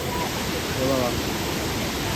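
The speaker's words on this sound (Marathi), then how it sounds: "जबरदस्त पाण्याचा फोर्स वाढला" Kushivali waterfall near Kalyan running hard after rain, a loud, unbroken rushing roar of water filling the whole scene at close range.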